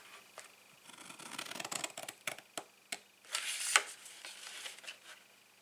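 Scissors snip through scored card in a quick run of close, sharp cuts, some isolated clicks and a denser flurry of slicing, in an otherwise quiet room.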